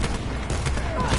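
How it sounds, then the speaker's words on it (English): Sniper rifle firing in Call of Duty Black Ops 4, heard as a loud, dense burst of gunfire and booming game noise across a short moment. "Sniper firing."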